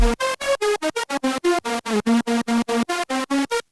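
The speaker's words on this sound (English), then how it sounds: "So it's basically just a super saw." A bright, buzzy supersaw synth with no effects, sub or filter plays a fast sequence of short staccato notes with shifting pitch, loud and dry, no voices.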